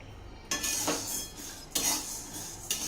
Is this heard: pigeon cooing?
no